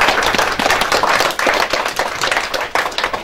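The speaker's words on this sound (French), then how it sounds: "Est-ce qu'on peut applaudir pour notre pays, s'il vous plaît?" An audience at an awards ceremony applauds, with dense, sustained hand clapping that stays loud and steady throughout and has no voices over it.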